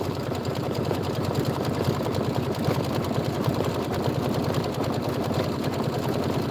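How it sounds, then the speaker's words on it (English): Embroidery sewing machine stitching a decorative outline of leaves on a carrot house quilt block, a steady fast mechanical whir with rapid needle clatter running evenly and loud throughout. "Step 7 says, stitch the carrot house leaves decorative outline."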